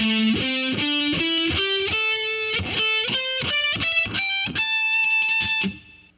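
Heavy metal electric guitar through distortion picking a rising octave pattern, about a dozen crisp, evenly spaced notes climbing in pitch, loud and close, ending with a brief fade.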